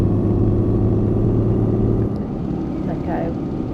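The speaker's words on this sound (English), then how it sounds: "That sound engine's not bad." Car engine droning while driving on the road, a loud steady low rumble with a sustained tone that drops away after about two seconds, leaving road noise.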